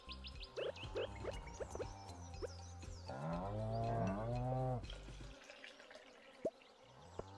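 A farm goat in the Stardew Valley video game lets out a few wavering bleats at moderate volume over soft game background sounds, followed by a short, sharp drip-like blip near the end.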